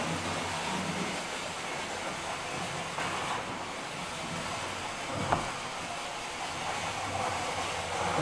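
A model railway train runs along an indoor layout with a steady, faint, whirring rumble throughout and one small click partway through. No one talks.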